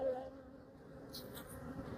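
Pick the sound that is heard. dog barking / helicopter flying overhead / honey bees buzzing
honey bees buzzing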